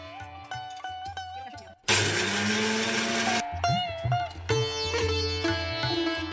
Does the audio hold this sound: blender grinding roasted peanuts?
yes